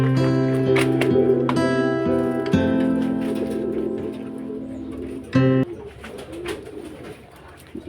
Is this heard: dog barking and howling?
no